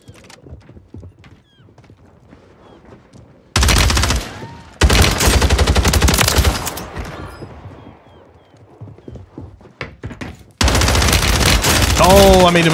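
Automatic gunfire bursts in a Warzone 3 battle royale gunfight on Rebirth Island, loud and dense in several long sustained volleys separated by quieter stretches, with a horse-like whinny texture late in the clip.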